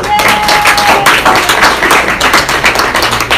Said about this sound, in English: Round of applause for Victor.